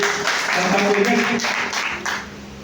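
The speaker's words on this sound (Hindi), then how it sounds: "इतना जानदार प्लेटफॉर्म, एक बार जोरदार तालियां होनी चाहिए" An audience at a business leadership event breaks into applause, a steady wash of clapping from a crowd with some voices mixed in, easing slightly near the end.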